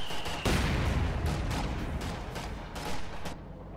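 Machine gun fire rattles through a battle in a strategy video game, with repeated loud bursts and shots layered over a dense, booming combat din.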